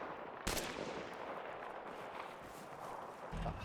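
Two sniper rifle shots in a video game, fired at a soft-skinned vehicle's engine: a sharp crack, then a second boom about three seconds later over steady background rumble.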